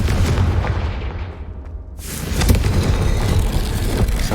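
Confringo fire-blast spell cast in the Hogwarts Legacy video game, a whooshing swell that dips and then erupts into a loud, broad burst with rumbling, crackling tail and no talk.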